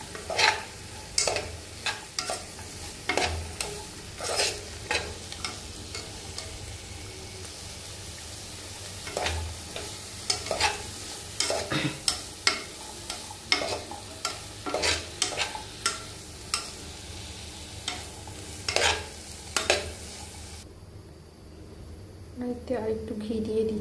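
Vegetables with salt and turmeric fry lightly in a pan, a soft steady sizzle broken by repeated sharp spatula scrapes and taps, with a voice talking over parts of it.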